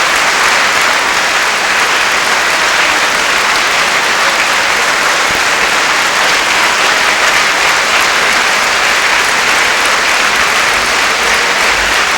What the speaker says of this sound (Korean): 스님께서 퇴장하실 때까지 큰 박수 부탁드리겠습니다.